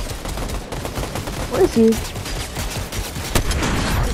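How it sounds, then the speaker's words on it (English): Fortnite turret gunfire rattles in quick bursts through a duos match, loud and close, while players talk over it. "He's really getting killed by the turret right now."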